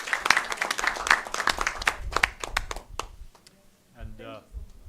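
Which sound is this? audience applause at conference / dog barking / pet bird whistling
audience applause at conference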